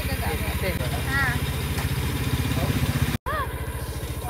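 A 2021 Honda Beat motorcycle idles nearby with an even, pulsing putter that carries on throughout. People talk over the engine, and the sound drops out completely for a moment near the end.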